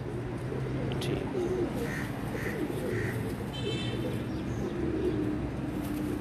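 Racing pigeons on a rooftop in Sahiwal during a pigeon-flying competition, with several soft cooing calls repeated near the middle over a steady outdoor background rumble.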